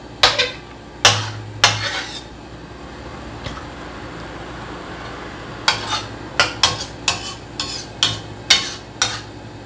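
Metal utensil scraping and clinking against a pan while stirring food with rice wine and a little water, a series of sharp clanks in two bursts with quieter stretches between, close and alone.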